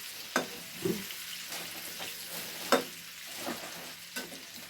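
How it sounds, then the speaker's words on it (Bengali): Eggs are turned in curry masala in a pan, several distinct spoon knocks and scrapes against a quiet steady sizzle, close and fairly soft, with no speech. "ডিমগুলোকে আমি এর সাথে একটু মাখামাখি করে নিচ্ছি।"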